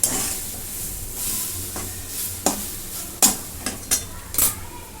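A spoon scrapes repeatedly through thick chickpea flour pithla in a frying pan, sharp irregular strokes over a faint steady sizzle of oil, close and clear with no talking.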